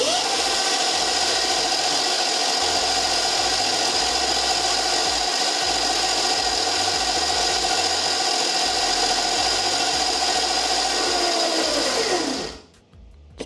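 A Leonx X1 Max electric bike motor whines steadily under throttle with a constant high-pitched tone and mechanical buzz, held for about twelve seconds before winding down quickly to near silence.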